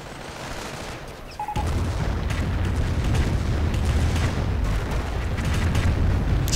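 A Calliope rocket artillery barrage in a video game fires as a sustained run of booming, rumbling blasts that set in after a quieter lead-in and stay loud and dense to the end, with no voices.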